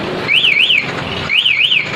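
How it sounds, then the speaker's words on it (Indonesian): Yamaha R15 motorcycle alarm going off after a break-in attempt, looping a loud warbling two-tone electronic siren in two bursts separated by a short gap. "Ketika dibobol, dia akan bunyi terus lama."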